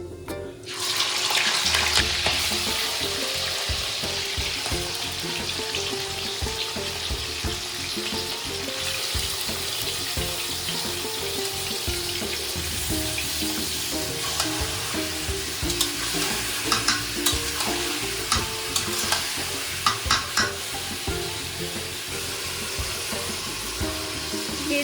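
Small pieces of meat fry in a kadai wok, giving a loud, continuous, close sizzle with frequent scraping and stirring over nearly twenty-five seconds and no talk.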